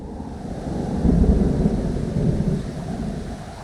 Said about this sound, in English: can see the storm coming now.